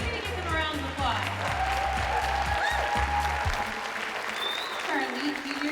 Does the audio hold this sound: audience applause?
yes